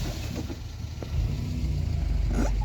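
A Renault Super 5 engine hums as the little car drives a loop, a mid-pitched motor note that rises louder about halfway through as it accelerates, with faint road noise around it.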